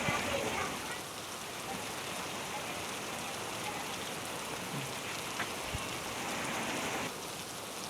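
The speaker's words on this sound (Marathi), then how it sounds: "मध्यरात्रीपासून पावसाची रिपरिप सुरू आहे।" Steady drizzling rain in Yavatmal patters softly and evenly throughout, a continuous moderate wash of fine drops with a few faint isolated taps.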